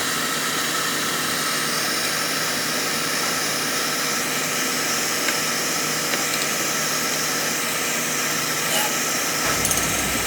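Motor of a residential oil burner running during a nozzle and filter service, a steady, even roar with a constant hum and no changes in pitch, close and continuous for the whole stretch.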